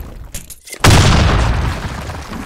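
A grenade blast in the shooter game Blackshot erupts loud and close after a short quiet lull, its booming rumble decaying slowly over the following seconds.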